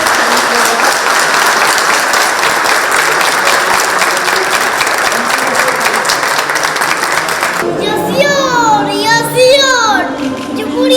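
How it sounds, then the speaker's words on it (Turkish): Loud, dense applause from a crowd at a Turkish Republic centenary celebration for children, sustained for several seconds before giving way to children's voices and chatter near the end. "ben ve şu anda size alkışlıyorum"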